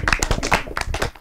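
An audience claps in a burst of sharp, closely spaced hand claps at a studio program, loud and near, with no talking over it.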